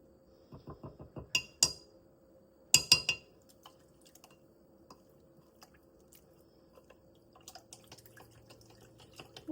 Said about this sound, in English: Wash off that spoon a little bit.